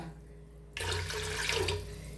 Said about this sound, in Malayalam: അപ്പോൾ അത് ഇനി നമുക്ക് ആവശ്യത്തിന് വെള്ളം ഒഴിച്ചു കൊടുക്കാം കേട്ടോ